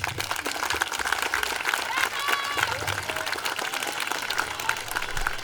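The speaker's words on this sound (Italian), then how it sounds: "Prenditi l'applauso di Ficarolo." A talent show audience in Ficarolo applauds steadily with dense, continuous clapping, while a voice speaks over the noise.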